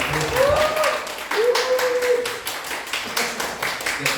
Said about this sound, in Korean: 우리 다시 한번 더 하나님께 영광의 박수와 우리 선생님께 감사의 박수를 드리도록 하겠습니다